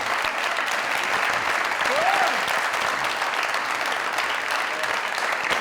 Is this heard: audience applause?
yes